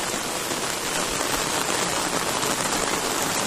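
Heavy rain pouring down steadily outdoors, with runoff water streaming toward a small village pond; a loud, dense, unbroken hiss fills the whole stretch with no talking.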